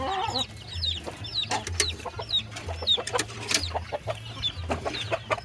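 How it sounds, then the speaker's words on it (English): A broody mama hen, among silver bullet gamebirds, clucks in low, soft repeated notes while her chicks peep in thin, rising chirps close by, with a few sharper scratchy sounds mixed in. "Got a mama hen up here, taking care of babies"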